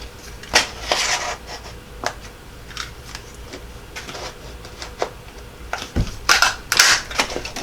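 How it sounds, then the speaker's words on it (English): Paper being punched with a hole punch around its edge for a wooden ornament: a series of sharp, close clicks and crunches at irregular intervals, with quieter handling noise between them. "we're going to punch all the way around the paper"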